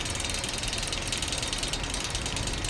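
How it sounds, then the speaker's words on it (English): An 8-inch Kwik Kool desk fan spins up with its badge rattling, a dense, steady mechanical clatter like a ratchet running continuously and fairly loud throughout. "that's the badge rattling. It does it whenever it starts up or slows down"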